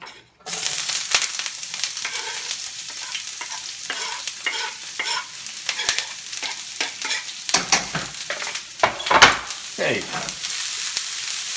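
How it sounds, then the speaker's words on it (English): Onions sauté in hot olive oil in a pan, giving a loud steady sizzle that starts abruptly, with frequent stirring scrapes and clacks, and someone says a word partway through. "Put a little olive oil in the pan, which is already hot,"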